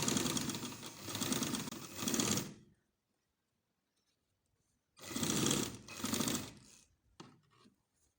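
A sewing machine stitching a two-panel baby frock runs in two loud, close bursts of rapid stitching, each about two and a half seconds long, with a quiet pause between them and a short final whir at the end.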